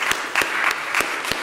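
Audience applause at a commemorative event, a steady wash of clapping with a few sharper individual claps standing out.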